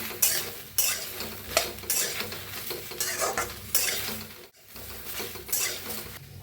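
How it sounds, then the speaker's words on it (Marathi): Okra dry-roasted without oil in a hot kadhai, stirred with a utensil that scrapes and clatters against the metal in repeated bursts, with a light sizzle between strokes. "भेंडी छान आता भाजून घेऊया पहिलं बिना तेल घालता"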